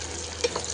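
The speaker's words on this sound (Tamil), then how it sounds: "இதோட சேர்த்து 2 பச்சை மிளகாயும் போட்டுட்டு நல்லா" Green chillies sauté in a pan for a Tamil mutton egg masala, a faint steady sizzle with one small pop partway through.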